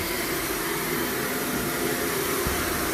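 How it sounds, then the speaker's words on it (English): A vacuum cleaner running steadily over soiled carpet, a continuous loud broadband whir with a low motor hum, no pauses or voices throughout. "it gets removed with just normal vacuuming like this"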